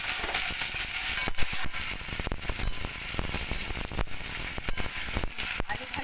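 Potatoes frying in ghee with cumin, bay leaf and dried chillies, a dense continuous crackle and sizzle close up, with occasional stirring clicks.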